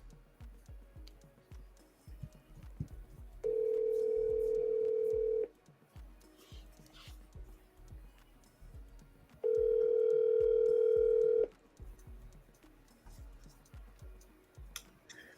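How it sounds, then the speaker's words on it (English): Two long steady ringback tones on an outgoing phone call, each about two seconds with a pause between, clear over faint low background ticking. "Let's call Peter here."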